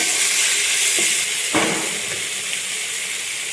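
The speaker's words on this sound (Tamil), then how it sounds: "நல்லா வதங்கிட்டுருக்கு." Onion, tomato and ginger-garlic paste sauté in hot oil, giving a steady broadband sizzle with a brief louder crackle and stir partway through.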